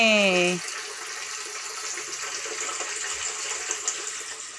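Water gushes steadily from a pipe, a constant rushing hiss; a voice cheers briefly at the start before the flow continues alone.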